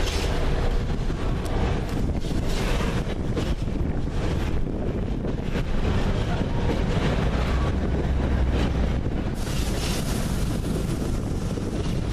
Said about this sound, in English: Just concentrate on this freight train.